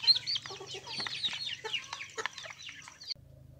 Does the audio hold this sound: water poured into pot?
no